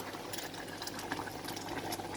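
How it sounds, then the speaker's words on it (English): Curry sauce bubbling and simmering steadily in a pan, a soft continuous burble with small pops, close and fairly quiet, no talk. "That's just going to simmer away nicely for a minute or two."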